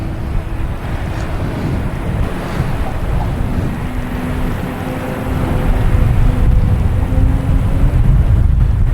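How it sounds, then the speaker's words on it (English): A JetBlue Airbus A321 taking off from Boston Logan gives a loud, continuous engine roar with a faint drifting tone, heavily buffeted by wind noise, swelling louder toward the end. "Next takeoff, we have JetBlue heading to Fort Lauderdale, flight 669"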